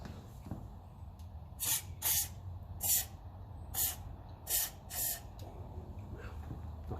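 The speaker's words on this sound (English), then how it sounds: "I'm just going to spray a bit of oil down in there while I'm at it" Oil sprays in six short hissing bursts into the ignition of a 1957 Ferguson 35 TVO tractor, each bursting spray evenly spaced and close over a quiet, low background hum.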